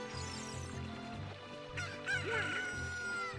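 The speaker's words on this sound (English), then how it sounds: "This chicken will wake Talon up." A rooster crows amid a busy farmyard of fowl, its call rising clearly over a steady background of clucking and honking birds, with a second crow-like burst near the end.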